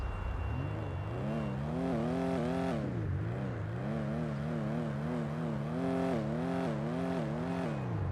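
The JB 700W sports car in GTA 5 revs its engine through several rising and falling sweeps, a loud, buzzy roar climbing and dropping repeatedly, close and continuous with no talking.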